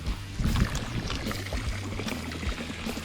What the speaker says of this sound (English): It's just gonna vent the extra pressure out.